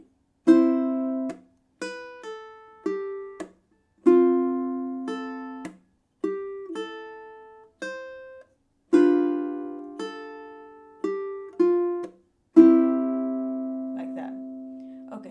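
Fingerpicked acoustic guitar playing a slow melody of plucked single notes and small chord groups that ring and decay, close and clean with brief gaps between phrases.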